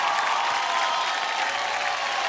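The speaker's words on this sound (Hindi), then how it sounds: "जोरदार तालियां हो जाए सोहेल सर के लिए" Audience applause on an Indian TV comedy show, a steady dense wash of clapping that holds evenly throughout with no voices over it.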